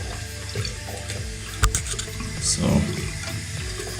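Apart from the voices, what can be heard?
toilet tank inlet valve overflowing, water running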